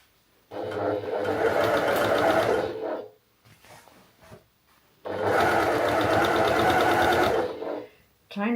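Sewing machine stitching patchwork pieces in two loud, steady bursts of rapid mechanical chatter, separated by a quieter pause with faint handling noises.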